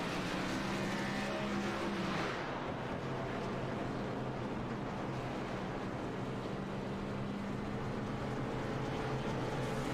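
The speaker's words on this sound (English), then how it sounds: "Now we're going to see several cars come down pit road" Race cars driving down pit road at Daytona, a continuous loud engine drone with a whining pitch sweep as a car passes, then a sustained roar of several engines throughout, with no talk.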